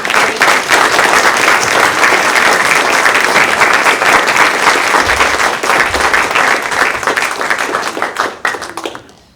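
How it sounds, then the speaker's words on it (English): Sustained, loud applause from a symposium audience, many hands clapping densely and evenly for several seconds before tapering off at the end. "let's give a round of applause for all of the"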